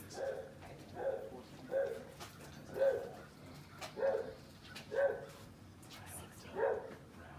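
Dogs bark in a steady series of about seven short, evenly spaced woofs at moderate distance, each bark clear and separate over a low background murmur.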